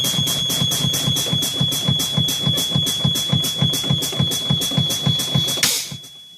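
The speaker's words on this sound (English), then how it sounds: "you can usually turn off the ignoring buzzer sound" A truck's low air pressure warning buzzer: a steady high warning tone drones over a fast, rhythmic pulsing buzz for several seconds, then cuts off abruptly near the end.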